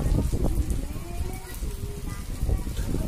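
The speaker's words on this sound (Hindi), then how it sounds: "बारिश बहुत तेज हो रही है" Heavy rain falls with wind, a dense broadband wash of drops with some low rumble from gusts, steady and close throughout.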